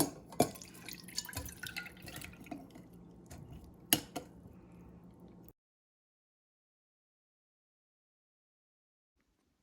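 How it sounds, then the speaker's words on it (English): Liquid drips from canned beans left draining in a strainer, scattered close drips and small clinks in a kitchen, ending abruptly in silence about halfway through. "I'm gonna really get these draining because I want to get as much of that liquid off of them"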